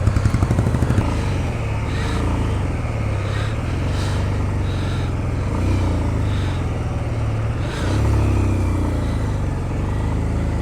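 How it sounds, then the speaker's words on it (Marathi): A motorcycle riding through Ladakh's Zanskar Valley labours uphill in low gear with the clutch slipping, its engine droning steadily and loudly up close with brief rattling bursts and wind. "माझी गाडीत आत्ता दोन ते तीन किंवा चारच्या स्पीडनी आणि तिला कंटिन्युअसली थोडंसं क्लच दाबून मगच पुढं घ्यावं लागतं आहे"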